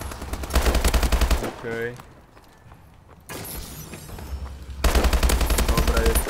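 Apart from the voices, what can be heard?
STG 44 rifle gunfire in Call of Duty Advanced Warfare video game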